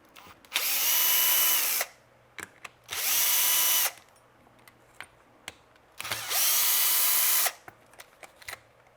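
Grinding on a Traxxas Sledge RC car chassis with a power tool: three loud, steady bursts of high whine, each about one to two seconds long, separated by short pauses with faint clicks and handling noise.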